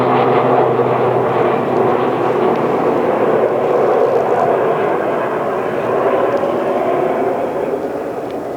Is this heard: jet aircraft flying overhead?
yes